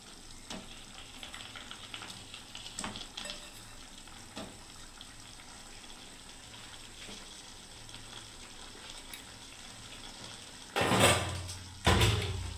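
Masoor dal fritters dropped into simmering papaya dal, a soft bubbling simmer with light stirring clinks, then two louder sizzling splashes near the end as the fritters go in.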